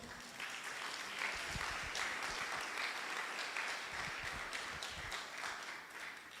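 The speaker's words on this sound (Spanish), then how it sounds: "Dale un aplauso al Señor." Sustained applause from a church congregation during a service, a dense, steady wash of many hands clapping that holds at an even level for several seconds with no voices standing out.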